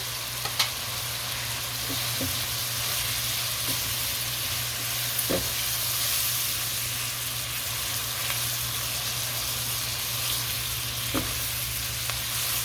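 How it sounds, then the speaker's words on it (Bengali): Fried shrimp dropped into a hot pan of egg and rice for shrimp fried rice, giving a steady loud sizzle with a few soft clicks and taps as pieces land and are stirred, no talk. "ওটা ফ্রাই করে রাখা শ্রিমগুলি দিয়ে দিচ্ছি"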